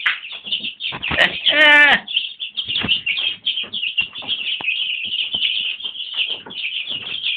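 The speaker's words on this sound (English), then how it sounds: "This is just where little birds are before they become big chickens." Young chickens peep constantly in high, shrill chirps close by as they eat, a dense chorus broken by pecking taps and a brief louder squawk, with someone speaking over them.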